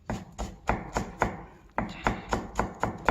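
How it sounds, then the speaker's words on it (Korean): Kitchen knife finely mincing green onion on a cutting board in a Korean cooking class, about ten crisp, evenly spaced chopping strikes up close with no talk. "이렇게 90도로 돌려서 곱게 다져 주시면 됩니다"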